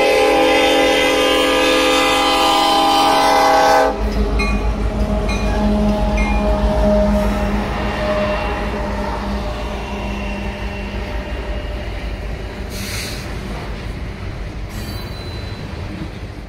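A train rumbles past close by with a steady heavy roar and squealing wheels, preceded by a loud sustained horn blast that cuts off, as it approaches slowly at a crossing.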